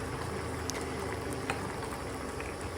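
Kewa Datshi of potatoes, dried red chilies and cheese bubbles in a covered pot, a faint, steady simmering hiss with occasional small pops and clicks.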